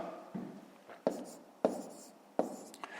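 Numbers being hand-written for a column multiplication in a fifth-grade maths exercise: several short, scratchy pen strokes close by, soft and unevenly spaced, with a low murmur of background room noise.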